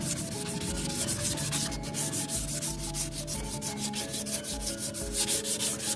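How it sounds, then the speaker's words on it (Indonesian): Rapid, rhythmic back-and-forth scratching of 400-grit sandpaper rubbing the body panels of a Honda C70 motorcycle, close and continuous. "Dan untuk amplas di sini karena medianya lumayan halus, ini saya menggunakan grade 400 seperti ini. Kita amplas."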